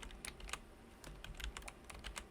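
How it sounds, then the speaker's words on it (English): Quiet, close keystrokes on a computer keyboard tap out a command in irregular clusters of clicks, with no talking. "you're going to type this command, tzutil space /s space, and then in quotes, type the name"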